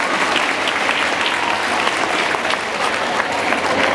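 An assembly crowd at a unified rally day bursts into loud, sustained applause, dense clapping holding steady throughout with a general crowd murmur.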